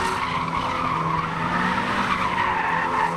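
Tires on a modified car screech and skid continuously while it spins donuts at a crowded car meet, a loud, sustained squeal with engine noise beneath, close and unbroken throughout.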